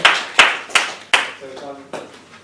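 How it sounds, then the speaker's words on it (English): A few scattered, sharp claps at a business training session, five spaced hand strikes fading out rather than a full round of applause, with a brief voice between them. "Give yourself a round of applause"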